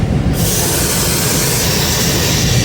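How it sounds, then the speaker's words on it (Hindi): The 102 Down railcar approaching Gujrat railway station, a steady loud rushing roar with hiss and rumble throughout, close and continuous, no talk. "गुजरात रेलवे स्टेशन पे अप्रोच बना रही है 102 डाउन सुबह रफ्तार रेल कार"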